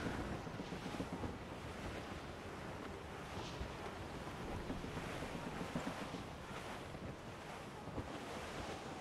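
Rough wind and heavy sea surge around a sailing ship in Assassin's Creed Rogue, a dense continuous roar of gusts and crashing waves, loud and unbroken with no voices.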